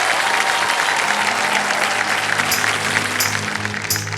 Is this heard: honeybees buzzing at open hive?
no